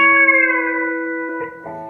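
An electric guitar with a B-bender plays a short lick: a ringing sustained chord fades, then a dead-noted triplet and a pre-bent note follow quickly, clean and close.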